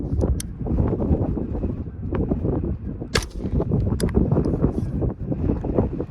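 Gusty wind buffeting a microphone outdoors at a shooting range: loud, continuous low rumbling with sharp, distant gunshots popping through at irregular intervals.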